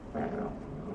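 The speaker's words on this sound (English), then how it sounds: "that dog was legit trying to kill me" A dog growls in the video game Animal Well, a short, low, rumbling snarl lasting about a second, close and fairly loud.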